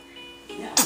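A short, sharp baby's sneeze bursts out at the very end, preceded by a quiet intake of breath against a soft background.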